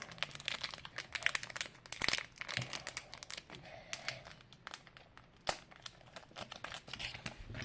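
Gift packaging being unwrapped, with dense crinkling and crumpling of wrap in quick irregular bursts and a few sharp tearing snaps, close and fairly loud throughout.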